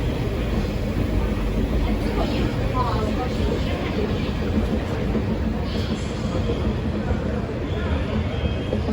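A train on the route to Hong Kong port in China rumbles steadily throughout, a dense low roar of rolling wheels with faint voices mixed into the noise.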